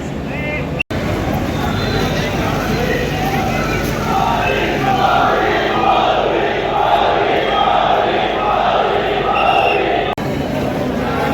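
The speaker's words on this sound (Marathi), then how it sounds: "अत्यंत खूब गर्दी है" A large, dense crowd at the Beed railway station inauguration roars and babbles continuously and loudly, with one sharp click near the start.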